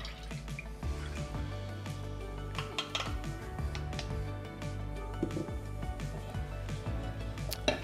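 Liquid crème fraîche poured into a pan on a cooking hob, a soft trickling and dripping with faint clinks of cookware, steady throughout.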